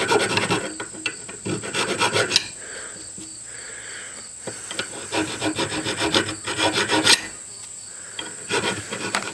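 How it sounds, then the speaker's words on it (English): A steel axe head from a belt axe kit is hand filed, with rhythmic rasping strokes in steady back-and-forth bursts, close and clear, pausing briefly between sets. "now that I got my initial file work done, I can start working on this bevel"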